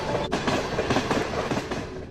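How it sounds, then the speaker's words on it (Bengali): A train rolling on rails with steady clickety-clack of wheels and carriage rumble, moderately loud and continuous, used as a sound effect in a Bengali horror audio story. "ট্রেন আমার চালু হলো,"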